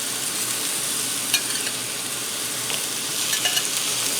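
Salisbury steaks frying in a pan for an Amish Pennsylvania Dutch recipe, a steady close sizzle with a few brief clinks and scrapes of a utensil, no talk.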